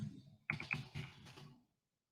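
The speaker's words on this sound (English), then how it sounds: "I'm just trying to get the name typed in here" A burst of key clicks from typing on a computer keyboard, close and fairly quiet, lasting just over a second before silence.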